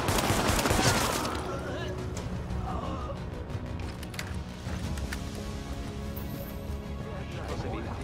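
Rapid bursts of gunfire in the video game The Division, loud at the start and then carrying on as a dense, continuous rattle of shots under a man's speech.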